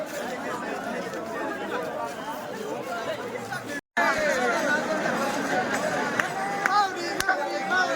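A huge crowd of pilgrims at the Ashadhi Wari in Pandharpur produces a dense, continuous babble of many voices close by, with a brief dropout midway before the murmur resumes just as loud.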